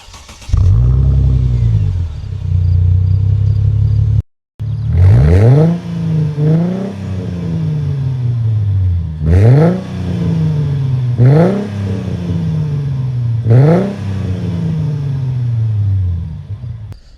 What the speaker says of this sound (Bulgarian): Нека преминем към запалването на колата и да ви покажа какъв звук извади.